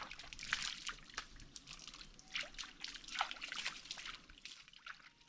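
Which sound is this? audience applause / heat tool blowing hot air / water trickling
water trickling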